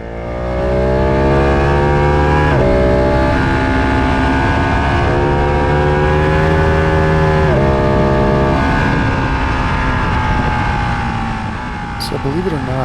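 A Ducati motorcycle engine revs hard and close as the bike accelerates through the gears, each rising whine dropping sharply at a shift before climbing again, with wind roar underneath, then easing off near the end.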